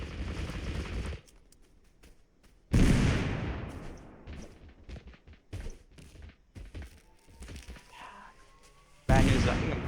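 Grenades exploding in the video game TABG: several loud, abrupt booming blasts with rumbling decay, spaced seconds apart amid lighter gunfire and game noise, with a player talking between them.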